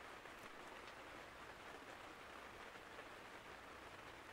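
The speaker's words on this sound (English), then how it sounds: "I could hear the faint patter of raindrops against the tent surface." Steady soft rain falling on a tent, a dense even patter and hiss that stays constant and fairly quiet throughout.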